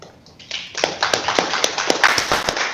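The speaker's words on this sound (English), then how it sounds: "you'll always hear these clapping hands" Hands clapping in a steady run of sharp claps, close and moderately loud, with no talk over them, as appreciation after a speech at a virtual signing event for an IIMSAM goodwill ambassador.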